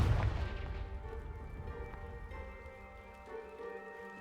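The Confringo fire spell in Hogwarts Legacy, blasting a pile of debris that blocks a stairwell: a heavy rumbling explosion that opens loud and booming, then fades into a long crackling decay.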